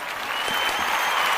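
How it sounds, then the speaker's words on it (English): Applause fills a State of the Union address, a steady, dense crowd clapping that stays at an even level and rises slightly toward the end, with faint voices mixed into the noise. "After every sentence, there was an applause."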